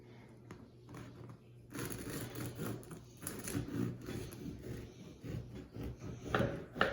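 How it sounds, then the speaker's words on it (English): A knife sawing into a dense, soft homemade loaf from a bread maker, a run of close rough scraping strokes and crumbly rustles after a quieter start, with no talking. "let's cut into this thing and see what it looks like"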